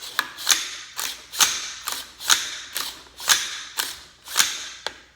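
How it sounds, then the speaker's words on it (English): The charging handle of a Smith & Wesson MP15 Sport 2 rifle is cycled repeatedly, about ten crisp metallic clacks in a steady rhythm, close and isolated. "let's cycle the charging handle a couple of times"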